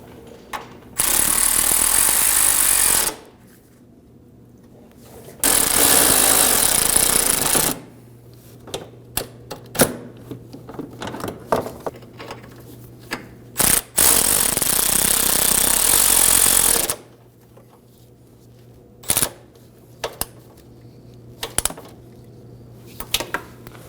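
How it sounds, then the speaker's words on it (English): Three long bursts of a power impact driver or ratchet tightening two bolts and a nut on a 2013-2015 Subaru XV Crosstrek washer fluid reservoir, close and loud, with short clicks and handling noises between them. "Now we'll tighten down our 2 bolts and the nut, being cautious not to over-tighten these."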